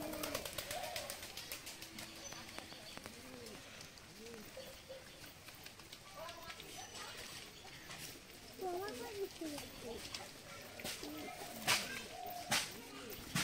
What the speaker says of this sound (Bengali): এই হচ্ছে সব পায়রাগুলো এখান থেকে